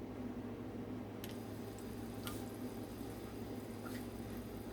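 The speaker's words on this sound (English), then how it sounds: "this is the coconut milk. They're bubbling." Coconut milk bubbles in a pot as it cooks down for oil, a soft steady simmer with a few sharp pops and drips standing out over the low background.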